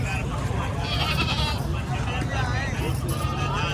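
Goats bleat amid a crowded Bakra Eid livestock market in Lahore, the calls half-buried under constant loud crowd chatter and nearby voices, with traffic noise in the background.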